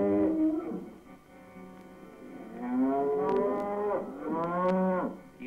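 Cattle low on a grassy dike in 1959, several long, drawn-out moos coming one after another at moderate distance over a faint background hiss.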